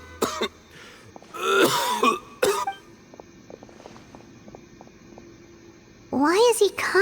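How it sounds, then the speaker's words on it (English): A Genshin Impact character gives several harsh, throaty coughs and throat-clearing bursts in uneven clusters, with quieter footsteps and faint voices between them. "Why is he coughing so much?"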